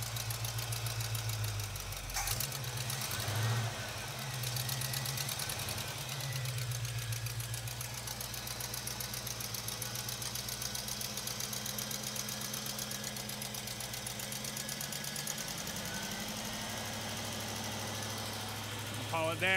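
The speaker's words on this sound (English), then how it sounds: "I want to get the revs up." A 1970 Cutlass engine runs loudly and continuously, its rumble rising and falling as the revs change, with voices talking faintly underneath.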